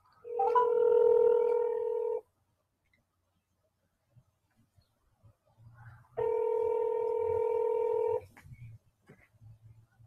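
A telephone dial tone plays twice, each a steady two-second hum, with a pause between them and faint tapping and soft background noise as the number is dialed to call back.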